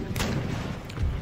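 A quicklime cannon shot in Empire Total War booms out as a single broad, rumbling artillery blast, with a second swell of low thunder near the end of the short burst.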